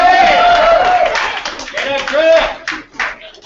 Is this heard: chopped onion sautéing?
no